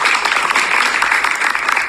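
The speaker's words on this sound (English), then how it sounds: "A big round of applause for everyone here." An audience at a stage drama event gives a loud, continuous round of applause, dense overlapping claps holding steady for the whole stretch.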